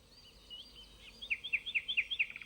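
A small bird chirps in a quick run of about eight bright, evenly spaced notes in a storybook scene with fallen snowbird feathers nearby. The call is clear and close against a quiet background, with no talking.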